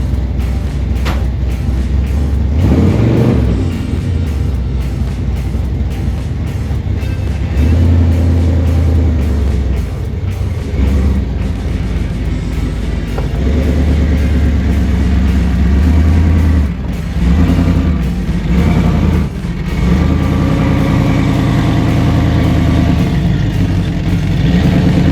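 A Jeep Cherokee Chief truck engine runs steadily nearby, a continuous loud low rumble with a few mild swells in revs, no voices over it.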